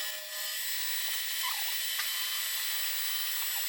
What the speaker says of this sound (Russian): в первую очередь выравнивает фрезой плоскость,